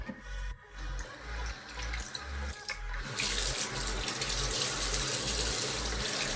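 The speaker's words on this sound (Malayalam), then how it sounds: "വെള്ളം നല്ല തണുപ്പുണ്ട്, ഒന്ന് വാം വാട്ടർ വരട്ടെ കേട്ടോ." Tap water runs steadily into a sink during a makeup removal routine, a continuous close splashing rush that swells louder about halfway through, with no talking.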